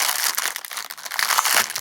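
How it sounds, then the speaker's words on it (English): Paper packing from a yarn haul package crinkles and rustles close by in a dense, continuous burst of crackling that lasts under two seconds. "that paper's loud"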